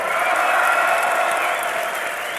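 A big esports crowd at a League of Legends semi-final roars and cheers loudly, a sustained wall of voices with applause mixed in, holding steady the whole time.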